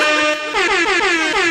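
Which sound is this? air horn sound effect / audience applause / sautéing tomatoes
air horn sound effect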